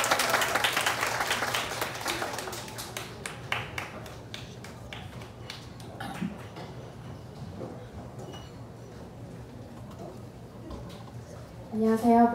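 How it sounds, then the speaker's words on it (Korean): University music department student performance audience applauding, strongest at the start and thinning into scattered claps and room noise, with a voice beginning to speak at the very end. "박수 한번 부탁드려요."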